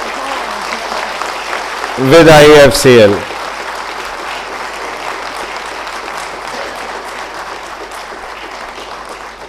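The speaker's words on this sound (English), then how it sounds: "let us put all hands together to give a round of applause to Alexandros" A room of guests at a corporate foundation-day celebration applauds steadily for a colleague on his birthday, a soft continuous patter broken by a short loud burst of speech early on.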